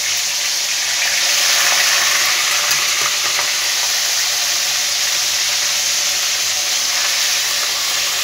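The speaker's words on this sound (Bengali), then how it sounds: "দেখো তেলটা লাল হয়ে গেছে, আমি একটা একটা করে কাঁটা ছেড়ে দিচ্ছি" Bhetki fish bones fry in hot oil, giving a steady, close, bright sizzle and crackle that holds evenly throughout with no talking.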